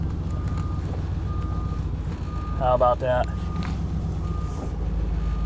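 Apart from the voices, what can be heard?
truck reversing beeps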